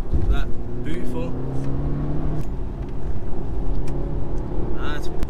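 Engine and exhaust drone continuously from inside a moving stock Audi S3, a steady low rumble with brief voices and small noises over it.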